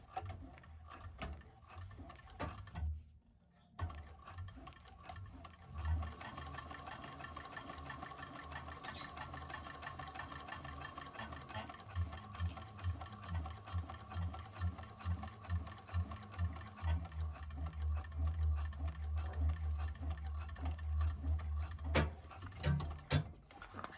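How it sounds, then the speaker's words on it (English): A sewing machine runs steadily for about twenty seconds, top stitching a bag, with a brief pause near the start before a long, even, rhythmic stitching run that grows slightly louder toward the end. "change my stitch length to 6, and we're just going to top stitch this"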